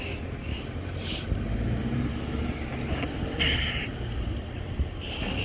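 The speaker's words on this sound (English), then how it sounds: "So he about to back the cars back up." A car backs up at low speed, a muffled engine rumble at moderate distance with a few brief higher squeaks or beeps over it and no talking.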